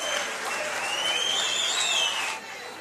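A studio audience at a satirical news comedy show breaks into strong applause with cheering, the sound swelling and holding, then dropping off sharply near the end.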